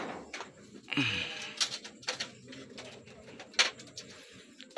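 Soft racing-pigeon cooing and wing rustles during loading for a pigeon derby race in Sinait, Ilocos, Philippines, over a busy outdoor background, with some scattered clatter nearby.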